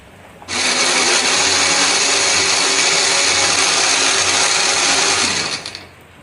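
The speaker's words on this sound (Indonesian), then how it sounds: "Di sini aku akan menghaluskannya menggunakan blender." Electric blender grinding spices with a little water or oil, switching on abruptly into a loud steady whir for about five seconds before winding down and stopping, with no one speaking.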